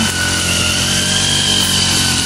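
Grass cutter trimming grass around a banana grove before planting ube, running as a loud, continuous close-up engine whine with a high-pitched steady drone and no pauses.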